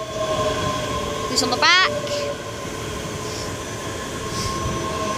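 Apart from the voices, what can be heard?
ScotRail train at Haymarket station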